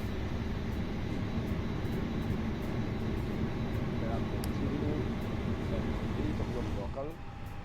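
An Airbus A320 fly-by-wire airliner in Microsoft Flight Simulator gives a steady, loud engine drone and cabin rumble in flight, flying from Rome to Innsbruck, with a faint click near the end.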